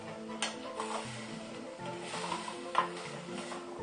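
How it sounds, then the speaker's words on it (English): Ingredients for a Japanese brown beef curry are stir-fried in a pan, with a soft continuous sizzle and occasional clinks and scrapes as they are turned. "Just like stir frying them for, I don't know, possibly up to a minute."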